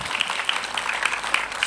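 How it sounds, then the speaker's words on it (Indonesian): Brief burst of applause from a Ramadan religious gathering: a short, busy patter of many hands clapping at moderate loudness, with faint murmuring underneath. "Tepuk tangan buat wong kadipaten"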